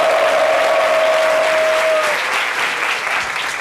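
Steady, full audience applause greeting a guest on a French-language talk show, dense and loud throughout with a brief tone riding over the first half.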